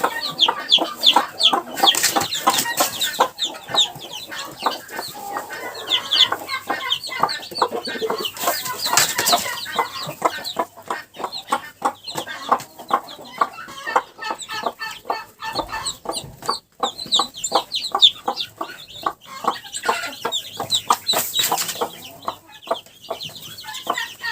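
A broody Cochin hen clucks steadily close by while chicks peep in quick, continuous chirps throughout, with a few louder bursts of clucking.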